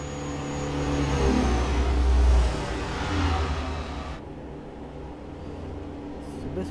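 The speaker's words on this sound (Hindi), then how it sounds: "अरे गाड़ियाँ ओवरटेक कर रही है अपने को।" Cars overtake in Euro Truck Simulator 2, their engines swelling as they pass close by, with a steady truck drone beneath before the sound drops off and fades.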